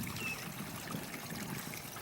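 Small stream trickling in Buckhorn State Park, a faint, steady, gentle water flow heard close by with no voices.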